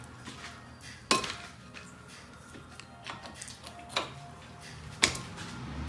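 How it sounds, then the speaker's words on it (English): Sharp metallic knocks and clanks ring out at irregular intervals while a brake caliper piston is pressed back against the rotor lip on a 2011 Impala, with quieter scraping between the hits. "I'm getting on the lip of that rotor, pressing the caliper back."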